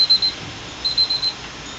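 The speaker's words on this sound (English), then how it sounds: "go ahead and start my timer" A kitchen timer alarm beeping during hot water bath canning of sweet pickle spears, short rapid electronic beeps in a few bursts, high and thin, near and fairly clear with no voices.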